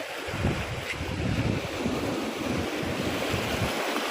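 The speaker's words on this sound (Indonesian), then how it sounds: "Ini masih ada sisa-sisa ombak, belum terlalu teduh ya." Leftover sea waves washing in after extreme weather near a damaged harbor and bridge, a continuous broad surf wash with gusty wind buffeting the microphone.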